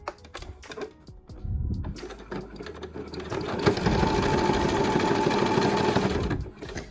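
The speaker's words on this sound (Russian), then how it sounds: "Опустить лапку и шить по прямой." A sewing machine stitches a straight seam along a lingerie clasp in bursts, with a short run early on, a brief pause, then a longer steady whirring run at close range before it stops, mixed with small handling clicks.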